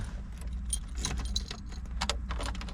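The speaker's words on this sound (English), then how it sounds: "Some keys." A bunch of keys jingles and rattles close up in short repeated bursts as someone picks them up to start a 1969 Mercedes-Benz 280SE Cabriolet.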